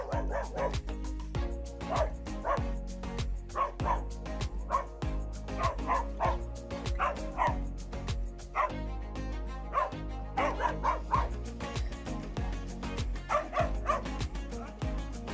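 A dog guarding a home barks repeatedly at strange creatures swimming in its pool, with bursts of loud bow-wow barks, yips and whimpers over a steady background music bed.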